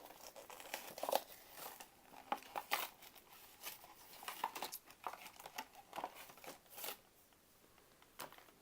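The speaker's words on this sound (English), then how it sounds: "Let's break them out of this package." Plastic blister packaging of a Masters of the Universe action figure being ripped and peeled open, a close series of crinkling, tearing crackles in uneven bursts, with no talking.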